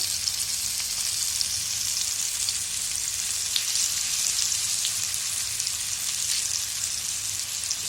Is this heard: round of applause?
no